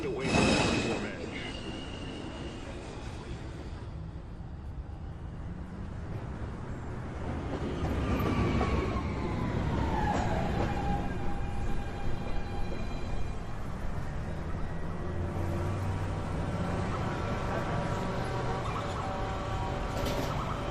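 A New York City Subway 1 train pulls into the 207th Street station, its rumble swelling midway as a motor whine glides downward while braking, with a recorded announcement voice speaking over the steady platform noise.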